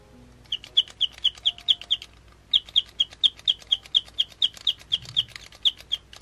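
A jelly bean pen bought in Osaka gives off bird-like chirping: a quick, even series of high, bright chirps, a brief pause, then a longer run of identical chirps. The sound is fairly close and clear, with no talking.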